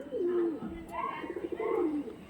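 Antique-line pigeons coo softly in a few rising and falling phrases, faint and fairly close, with little else around them.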